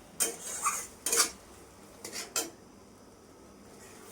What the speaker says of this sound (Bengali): এইভাবে নাড়তে থাকবো।